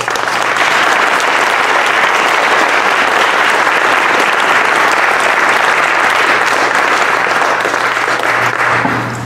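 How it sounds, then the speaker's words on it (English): Sustained applause from a large audience at an award ceremony, steady and loud throughout with no voices over it. "I hope you will join me in a round of applause for all these wonderful individuals."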